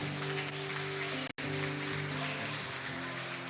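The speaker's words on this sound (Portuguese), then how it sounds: "Se você é vitorioso, aplauda ao Senhor." A church congregation applauds the Lord in a dense, rain-like patter, steady and fairly faint, with sustained organ or keyboard tones underneath and a momentary dropout partway through.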